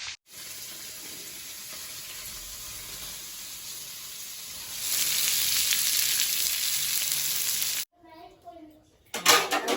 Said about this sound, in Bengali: আর উচ্ছেটা ফ্রাই করছি সবে